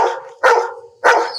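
A dog barks three times at a close, loud level, each sharp bark spaced about half a second apart with brief quiet gaps between.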